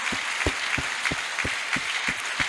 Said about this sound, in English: A clap offering for all the ministrations.